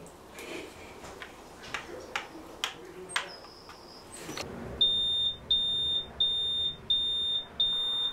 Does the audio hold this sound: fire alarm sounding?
yes